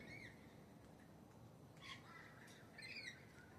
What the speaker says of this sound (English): Mommy and baby Corella.